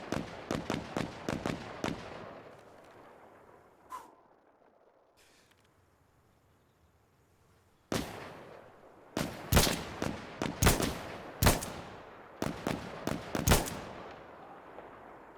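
Single gunshots from a marksman weapon during video game marksman training ring out in a steady series, pause near silence, then resume in clusters of sharp, close cracks with short reverberant tails.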